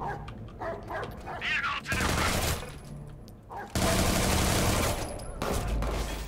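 Bursts of gunfire from the video game Watch Dogs 2, loud rapid shots in two dense stretches separated by a brief lull, with other game noise between them.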